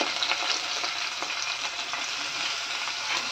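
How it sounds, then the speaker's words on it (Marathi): Onion sautéing in a pan for prawn rice, a continuous close sizzle and crackle with soft stirring strokes and no talking. "कांदा चांगला परतून घेते."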